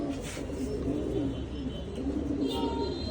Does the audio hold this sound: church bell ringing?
no